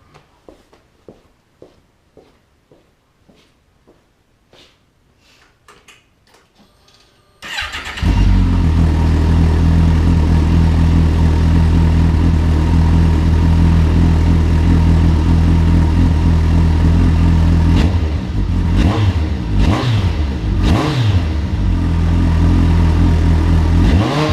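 Faint clicks and small noises, then a Kawasaki Concours 14 motorcycle engine with a modified exhaust suddenly fires up warm and runs loud and steady, with a few revs near the end.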